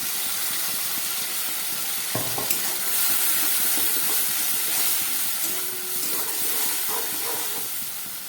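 A blended paste of green chilli, onion and garlic sizzles loudly in hot oil for a Bengali katla fish curry. The hiss stays steady and close, with a sharp scrape or clink partway through.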